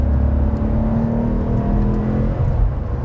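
A Maserati 4200 GranSport engine is held at about 3000 rpm in normal mode, giving a steady, smooth, moderately quiet hum that eases off just before the end, with no talk over it.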